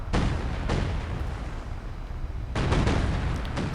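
Artillery fire in the video game Company of Heroes 2 (Ardennes Assault), with several loud, close booming blasts in quick succession, each trailing into heavy rumbling noise, and no talk.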